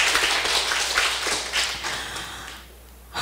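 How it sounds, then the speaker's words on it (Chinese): An audience claps together at a Taiwan Civil Government jurisprudence class lecture, a dense wash of clapping that thins and fades near the end. "大家掌声鼓励"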